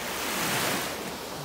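Sea waves wash steadily onto the shore, a loud, continuous roar of surf with some wind noise, no voices over it.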